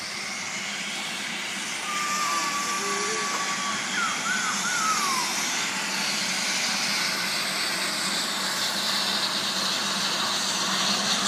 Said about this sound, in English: Oh, it's a helicopter in the park.